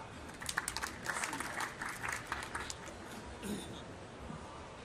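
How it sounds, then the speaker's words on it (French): Scattered audience clapping at a fitness fair talk, fairly faint and uneven, rising briefly then thinning out, with some faint voices mixed in underneath. "T'as senti ce dynamisme dans les applaudissements?"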